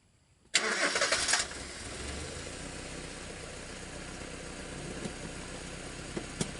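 Mazda van's engine cranks with a loud burst of starter noise, then catches and settles into a steady, quieter idle that continues to the end with no talk.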